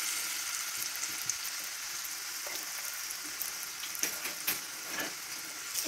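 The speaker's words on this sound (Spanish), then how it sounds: "Ahora los voy a poner a freír. Ya está caliente. Ya está caliente el aceite." Sliced plantains frying in hot oil, a steady close hiss with faint crackles and a few sharper spits, moderately quiet and with no voices.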